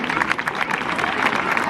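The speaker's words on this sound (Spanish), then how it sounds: "Un fuerte aplauso para el clasificado Ourense Club de Fútbol." A crowd at a youth football award ceremony applauds a classified club, a short burst of dense clapping at moderate distance, steady throughout with faint crowd murmur.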